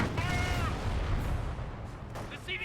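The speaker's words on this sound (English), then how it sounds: "Artillery barrage there" Distant artillery barrage rumbles continuously in a Company of Heroes 1 battle, a dense low boom-laden roll throughout with scattered pops and a faint whistle early on.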